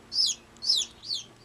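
A newly hatched Serama chick peeps in three high, bright chirps about half a second apart, close and clear over a quiet background.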